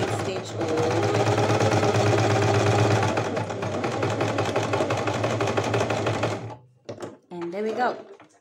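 A sewing machine running a straight stitch: a steady, fast mechanical whir with a rapid needle rhythm for several seconds, then stopping, followed by a few faint clicks and handling noises.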